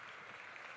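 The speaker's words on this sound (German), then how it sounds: "Großen Applaus für den Mathieu Heiss." Audience applause for a barista at the Swiss Coffee Festival, a faint, dense, steady patter of many hands clapping across a brief moment.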